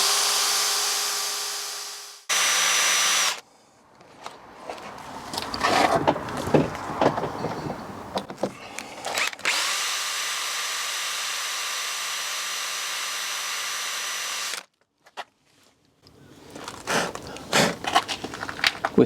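A power drill bores through to the wiper spindle of a C4 Corvette ZR-1, sounding as sustained close whining runs broken by pauses, with clatter and handling noises between the bursts.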